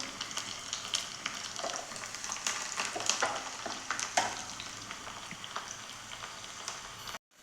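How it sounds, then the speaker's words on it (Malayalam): Chopped garlic pieces fry steadily in hot coconut oil, a dense, even crackle and sizzle running throughout with occasional sharper pops, close and alone until a brief cut at the very end. "ഇപ്പോൾ വെളിച്ചെണ്ണ നന്നായി ചൂടായിട്ടുണ്ട്. അതിലേക്ക് മുറിച്ച് വെച്ച വെളുത്തുള്ളി കഷ്ണങ്ങൾ ഇട്ട് കൊടുക്കാം."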